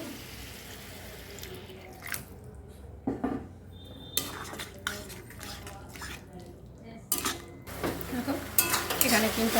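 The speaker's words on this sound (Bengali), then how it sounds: "এবার আমি ভালোভাবে নেড়ে নেব।" Eggplant and egg curry with spices being stirred in a pan, with metal utensil scrapes and clinks against cookware in irregular bursts, close and moderately loud over a faint background hiss.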